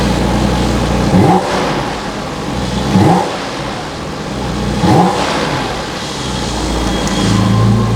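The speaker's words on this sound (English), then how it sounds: "you can control the level of the sound that's being produced from your exhaust" A Porsche GT4 RS sports car engine revs hard three times in a row, each sharp throaty blip rising and falling back to a rumbling idle, loud and close.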